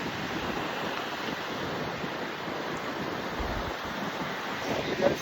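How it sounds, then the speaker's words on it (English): Wind gusts and surf wash continuously along a beach as the tide rises, a dense, steady roar of waves and wind buffeting the microphone, close and loud with no voices. "It's starting to get windier and windier, and the tide is getting closer and closer again"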